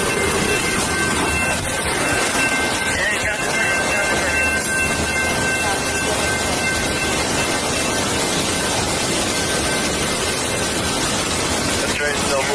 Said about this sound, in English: The train's still moving